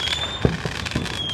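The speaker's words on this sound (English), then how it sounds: "today I am watching the fireworks out." Fourth of July fireworks going off outside, a few sharp pops and thumps in quick succession over a hissing, whistling background, moderately loud and without speech.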